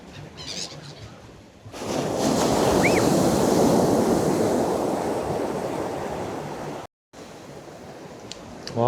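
Strong surf rolls onto Songjeong beach in cold weather, a loud, sustained wash of breaking waves with wind buffeting the microphone, fading briefly before a quieter tail.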